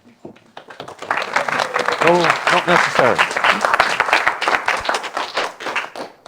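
An audience claps as a speaker is introduced at a talk, a loud, brisk patter of many hands close by, with someone speaking over the applause partway through.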